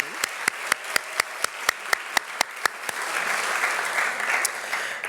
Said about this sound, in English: So let's give a big round of applause for our soon-to-be graduates.